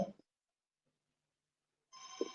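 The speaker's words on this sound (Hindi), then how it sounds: "शायद किसी का फोन आ रहा है सर" A telephone rings briefly near the end, a bright electronic trill after a short burst of sound and a near-silent pause, with no talk over it.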